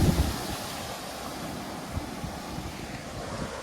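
A vehicle rushes through floodwater on a village road during heavy monsoon rain and flooding in Sindhudurg, Konkan, with a steady broad wash of splashing water and rumble throughout, fairly loud and continuous, with no voices.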